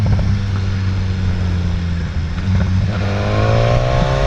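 A car on an open road is loud and steady as it goes past, its engine holding a low drone with a rising whine near the end, and no voices.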